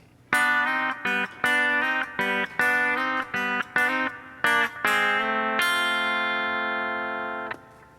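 Slow electric guitar phrase from a country song intro, a run of distinct picked and hammered-on notes at a steady pace, loud and close, ending on a long ringing sustained note.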